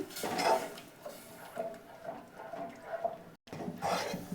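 Boiled milk is mixed in a pan, with soft repeated clinks and scrapes of a utensil against metal in a steady rhythm, close and fairly quiet.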